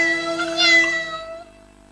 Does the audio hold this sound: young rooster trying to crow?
no